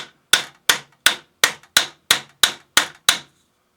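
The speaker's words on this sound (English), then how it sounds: "Tap it up until the latch locks on the sight." A Mosin Nagant M91/30 bayonet latch is tapped with a piece of hardwood, nine sharp, evenly spaced knocks in a steady rhythm, close and crisp, then silence.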